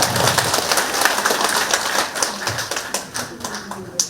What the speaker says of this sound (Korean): 뜨거운 박수 한번 보내주시면 고맙겠습니다